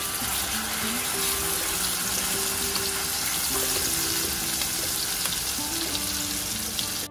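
Whole black pepper and cumin seeds sizzle steadily in hot oil, a dense continuous crackle at close range with faint clinks of a spoon or utensil throughout.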